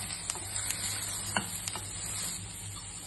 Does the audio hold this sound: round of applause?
no